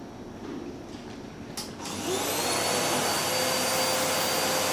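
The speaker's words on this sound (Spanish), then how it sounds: "Una aspiradora alcanza los 70 decibelios." A vacuum cleaner switches on and ramps up to a loud, steady whine that continues to the end, close by, no talking.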